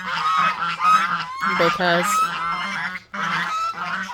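Young guinea fowl keets call loudly and close in repeated nasal, honking bursts with short gaps between them, and a voice briefly speaks.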